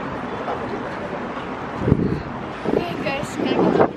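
Strong wind gusts buffet the microphone outdoors at Darling Harbour in Sydney, a steady roar that rises and falls beneath a person talking.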